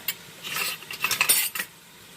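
Metal spoon scraping and clinking against a pan while stirring tofu with spices, peppers and onions for black bean pasta, a quick run of close, bright scrapes and taps without talk.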